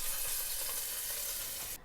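Hot tempering sizzles loudly onto gajrela, a carrot kheer dessert, a dense, steady crackling hiss that cuts off abruptly at the end.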